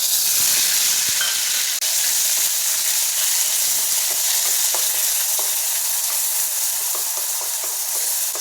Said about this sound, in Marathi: तेल गरम झालेलं आहे आता यात मी हे जिरं टाकते आणि ही मोहरी आणि हा थोडासा कढीपत्ता